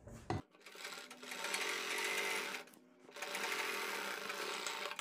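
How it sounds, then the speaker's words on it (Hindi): A sewing machine runs a straight line of stitches on kurti fabric with anchor thread, whirring steadily and close up in two long runs separated by a brief pause, with no talking. "तो हम यहाँ से अपनी एक सीधी सिलाई लगाते हैं।"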